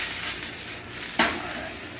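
Napa cabbage, onions, green beans and carrots stir-frying in a hot pan, giving a steady close sizzle, with one sharp burst as the cabbage goes in, and no talking.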